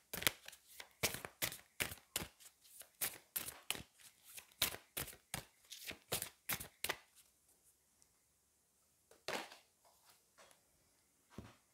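Oracle and angel cards being shuffled by hand, a rapid series of crisp, close riffling flicks in an even rhythm that thins out, then a couple of brief final shuffles, with no talking.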